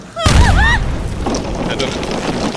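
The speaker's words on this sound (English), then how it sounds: "Explosion from above." A heavy explosion from overhead in a science-fiction audio drama: a sudden deep boom, followed by a sustained rumble of debris and sweeping electronic chirps, with no talk over it.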